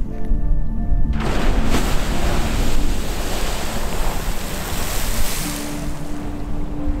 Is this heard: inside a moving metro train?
no